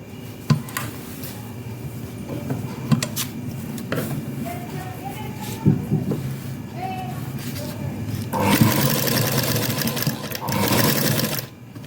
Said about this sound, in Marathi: आतला अस्तरचा कपडा दिसणार नाही अशा प्रकारे आपल्याला इथे टिप मारून घ्यायची आहे।